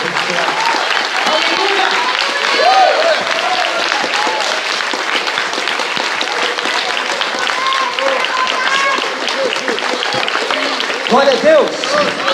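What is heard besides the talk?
congregation applauding in church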